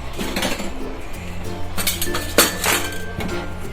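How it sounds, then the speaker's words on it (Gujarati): A metal spoon clinks sharply against a cooking pot several times while chili powder, coriander-cumin powder and garam masala go into rasam, with irregular close taps and scraping and no talk. "આપણે એમાં પછી મરચું પાવડર થોડુંક પાછું નાખશું, અને ધાણા જીરું નાખશું, અને પાછું ગરમ મસાલો નાખશું થોડોક"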